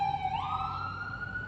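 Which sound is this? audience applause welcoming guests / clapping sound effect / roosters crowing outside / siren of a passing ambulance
siren of a passing ambulance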